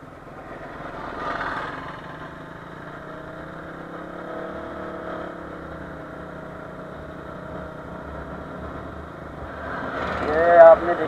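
A KTM Duke 200 motorcycle strains to pull away from a standstill in sixth gear: a low, labouring engine note holds steady, then swells louder near the end as revs rise.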